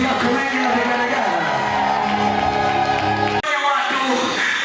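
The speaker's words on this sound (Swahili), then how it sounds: "Upige makofi yako mengi na vigelegele." A church congregation at a Sunday service claps hard and ululates together, a loud, dense wall of cheering and trilling voices that breaks off sharply for a moment before surging again.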